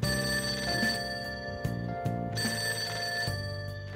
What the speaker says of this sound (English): The ringing's not coming from my cell phone. Answer the phone.